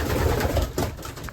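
Racing pigeons coo softly inside their loft, a low, steady murmur of overlapping calls that continues through the whole moment with no voices over it.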